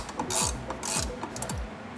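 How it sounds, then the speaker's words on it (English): A hand ratchet clicks rapidly on the lower shock bolt of a Lexus IS300, several quick bursts of pawl clicks in a close, quiet workshop with no talk. "Loosen your lower shock bolt."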